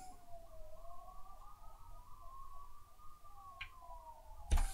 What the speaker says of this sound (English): Ambulance coming for me.